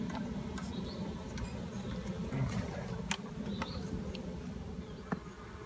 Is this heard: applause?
no